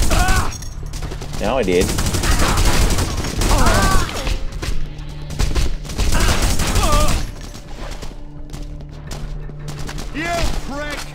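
Rapid gunfire from The Punisher video game, with bursts of shots and booms running through most of the clip while someone talks over the shooting.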